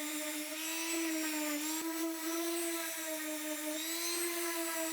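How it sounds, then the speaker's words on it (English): A small Makita sander with a Burnett multi-hole abrasive pad and dust extraction bag works along wood panelling joints, giving a steady close motor whine with a constant hum, running without pause. "Little Makita sander, a Burnett multi-hole abraser. So that's working very well with the little extraction bag"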